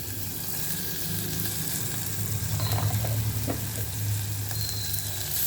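Ginger, garlic and green chillies fry in oil for a fish curry, with a loud, continuous sizzle and occasional scraping stirs in the pan, no voices.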